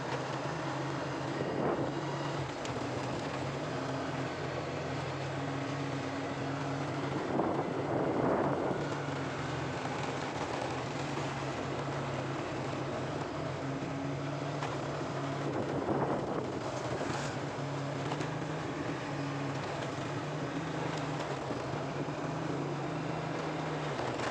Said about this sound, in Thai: มอเตอร์ไซค์ไปมันก็ได้ยินเสียงไป